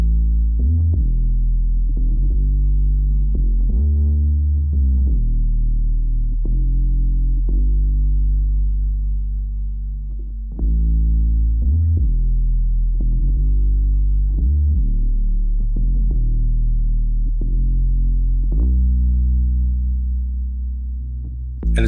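A warm synth bass, a triangle wave with slight saturation, repeats a simple low riff in a steady loop, thick and round with soft attacks, no voices.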